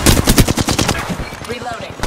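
Rapid automatic weapon fire from the video game Apex Legends, a close, loud burst of evenly spaced shots for about a second, followed by further shots mixed with game sounds and chatter.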